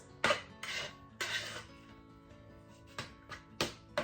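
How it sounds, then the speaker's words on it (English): Savory rice being stirred in a microwave-cooked dish, with a few scraping, rubbing bursts of a utensil against the dish, loud and close, separated by quieter pauses. "And I'll just stir in here and show you how fluffy, nice and fluffy the rice is."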